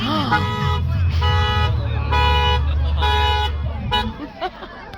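Car alarms blare with repeating electronic tones over a low engine rumble in Guangdong, China, loud and close, with voices faintly underneath.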